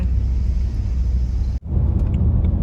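A car drives onto an expressway in Italy, its steady road rumble and tire noise continuous and close, broken by a sudden brief dropout before the drone resumes.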